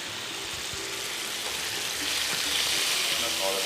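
Meat sizzling in a hot pan for a chocolate-coated meat dish, a steady close broadband fry that swells a little louder partway through, with faint kitchen voices underneath.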